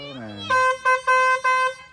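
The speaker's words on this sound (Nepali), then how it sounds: "ल हर्न कत्रो बजाएको यारमा" A vehicle horn honks in several short blasts, a longer toot then three quick honks, loud and close, with a voice speaking just before.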